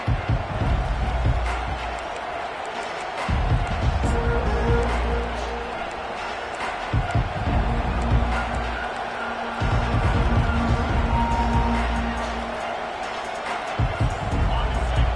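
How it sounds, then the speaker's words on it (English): A stadium crowd roars steadily at a Kansas at Nebraska college football game, a loud continuous wash of cheering with swells, under a commentator's talk throughout. "This crowd trying to make life miserable for this offense."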